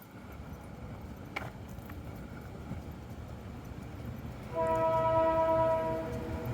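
A low, steady train rumble, then a loud sustained horn blares for over a second before fading back into the rolling noise.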